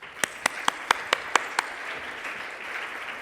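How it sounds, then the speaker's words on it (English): Short burst of hand clapping from the audience at a payments industry innovation symposium, about seven distinct claps in quick succession before fading into quiet room tone. "Welcome with a round of applause."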